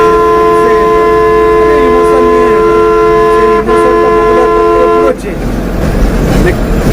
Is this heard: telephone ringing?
no